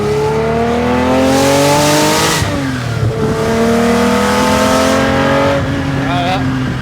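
A friend's car accelerates hard, its engine note climbing through repeated rising sweeps with a brief gear-change dip, loud and continuous while people talk over it.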